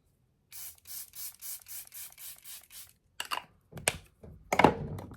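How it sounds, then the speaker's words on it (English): A rapid series of about ten short hissing bursts of Tarte makeup setting spray in even rhythm, followed by a pause and a few louder handling clatters and rustles up close. "I'm just gonna spray this down with my Tarte LifeLock."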